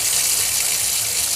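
Water gushes steadily down a freshly unclogged household drain, a continuous close rushing hiss with no talking.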